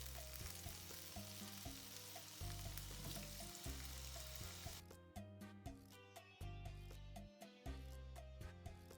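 Drained potatoes dropped into a pan with onions, frying with a constant loud sizzle under repeated clinks and scrapes of a utensil, and a brief crackling burst as the potatoes hit the hot oil.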